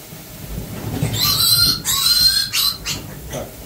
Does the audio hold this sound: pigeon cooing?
no